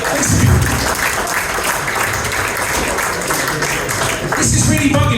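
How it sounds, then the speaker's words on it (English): Audience at a corporate dinner claps as a guest returns to his seat, continuous loud applause with voices and background hubbub mixed in. "Give Andy a big round of applause as he takes his seat in the audience"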